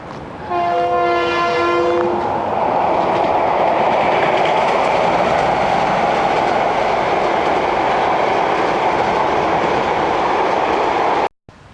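A train horn blasts briefly at the start, then a loud, sustained roar of a passing train with rumbling wheels continues until it abruptly cuts off.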